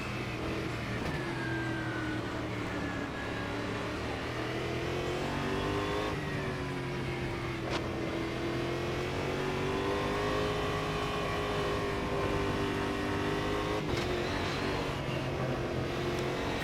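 A race car engine in the Automobilista 2 sim racing game drones steadily, pitch rising and falling with throttle and gear changes, loud and continuous throughout.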